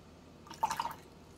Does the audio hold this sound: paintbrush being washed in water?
yes